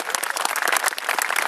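Audience at a town hall speech claps enthusiastically, a dense, close burst of applause with crisp individual hand claps throughout.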